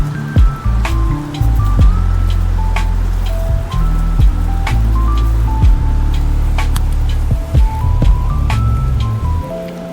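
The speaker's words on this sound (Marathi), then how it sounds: "थोडी हळद टाकून नाही का छान अंडे असे फ्राय करून घेतलेले आहे" Turmeric-coated boiled eggs fry in hot oil in a pan, giving a steady close sizzle with scattered sharp pops and spatters throughout.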